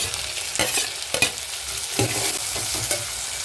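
Yellow and red capsicum stir-frying in a pan, a steady sizzle broken by several sharp scraping stirs from a spatula, close and fairly loud, with no voices.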